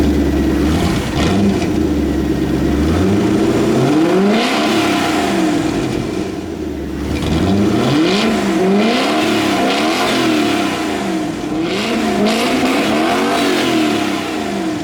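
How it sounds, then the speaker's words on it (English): A sports car engine revs repeatedly, rising and falling in loud throaty bursts through an aftermarket exhaust, close by with no talking. "Whoa, you guys want to hear it? Yeah, buddy, that is actually not factory exhaust."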